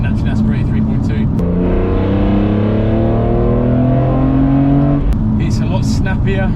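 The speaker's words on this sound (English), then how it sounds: "It's a lot snappier when the turbos spool up and it kicks in, the boost." A Stage 2 tuned twin-turbo BMW F80 M3 of nearly 600 bhp accelerates hard, its engine note climbing steadily and loudly through the revs before cutting off, with cabin talk at the start and end.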